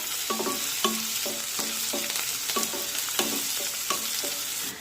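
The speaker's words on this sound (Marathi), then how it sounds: "ती सुद्धा यामध्ये टाकूया आणि हे कांद्यासोबत परतून घेऊया" Garlic and green chili sauté with onions in a pan, giving a soft constant sizzle broken by a regular run of scraping stirs, close and moderately quiet.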